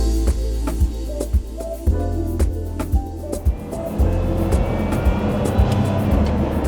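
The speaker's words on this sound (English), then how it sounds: "because of this mid-engine placement, we basically have this noise right behind our heads. I have to tell you, I love that whirring sound" A Lotus Emira's mid-engine V6 whirs close behind the cabin occupants while driving, a steady tonal drone that climbs in pitch, broken by regular sharp ticks and clicks, loud and continuous with no talking.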